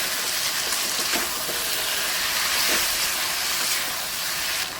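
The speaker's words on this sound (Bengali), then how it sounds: "লাউ আলু ভেজে রেখেছিলাম কষিয়ে নিচ্ছি মশলার সঙ্গে কষিয়ে নেবো" Bottle gourd and potato pieces being fried and stirred with spices in oil for chicken kalia, a steady close hiss and sizzle with a few soft scraping stirs throughout.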